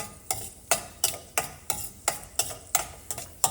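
Carrots frying in ghee for carrot halwa, stirred with a spoon in a steady rhythm of about ten scraping strokes over a soft sizzle, close and clear.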